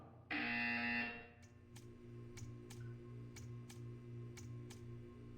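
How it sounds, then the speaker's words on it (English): A loud, harsh electronic buzzer from the video game Portal 2 blares for about a second, then cuts off, leaving a faint hum with a few quiet ticks. "When you hear the buzzer, stare at the art."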